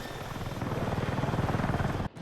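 An attack helicopter flies in the Battlefield 6 video game, its steady rotor chop pulsing loud and close in a fast, even rhythm with a deep engine drone beneath, cutting off abruptly near the end.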